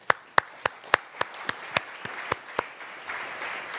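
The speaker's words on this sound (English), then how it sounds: "if you want to join me in applause" At a water-integrity conference session during Stockholm World Water Week, sparse audience clapping rings out in about ten distinct claps at an even pace, close and dry, before giving way to faint room noise.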